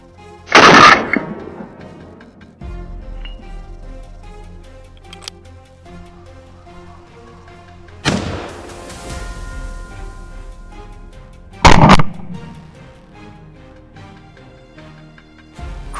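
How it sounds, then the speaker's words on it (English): Three short, loud bursts of rapid gunfire aimed at a wild boar in a cornfield, spaced several seconds apart, with quieter rustling and ticking between them. "A burst of gunfire rang out, cutting off its escape."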